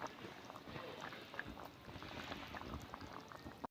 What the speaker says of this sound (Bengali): দেখুন বন্ধুরা কেমন টক করে ফুটছে।